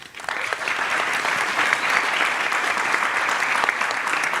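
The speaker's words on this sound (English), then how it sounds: "Big round of applause." An audience at a Bitcoin conference's exploits session gives a big, even round of applause that starts abruptly and holds steady and full for several seconds.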